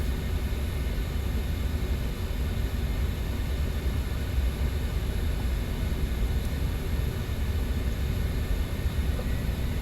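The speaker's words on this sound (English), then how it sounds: "Set takeoff thrust." A Fokker 100 jet's engines spool at takeoff thrust in a flight simulator, a steady, loud, broadband roar with a low rumble that holds constant throughout.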